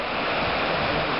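An Idaho creek flows in a constant, close, full-bodied rush of water, steady throughout with no talking.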